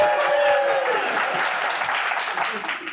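An audience at a drag-themed podcast recording breaks into a dense round of applause that holds steady and slowly thins, with a voice over it at the start.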